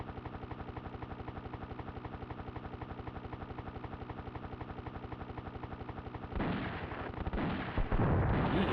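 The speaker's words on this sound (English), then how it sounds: "Who's shooting at me?" Gunfire aimed at the player in a SNES video game: a fast, continuous rattle of shots, then heavier bursts and explosive blasts near the end, all from game audio with no voices.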